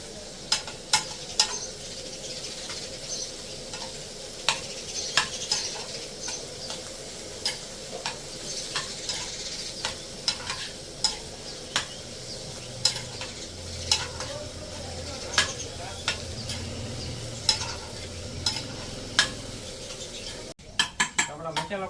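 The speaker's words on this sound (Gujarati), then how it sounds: "હવે આપણે મિક્સ કરી નાખશું અને થોડી વાર માટે પાકવા દઈશું." Momo masala filling with fresh coriander cooks in a pan, giving a steady close sizzle while a spoon repeatedly clinks and scrapes against the metal in an uneven rhythm for about twenty seconds, with a brief clatter near the end.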